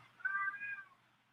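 A pet cat named Babu gives a single short meow, close and fairly quiet, harmonic and slightly drawn out, with a faint low hum underneath and no talking.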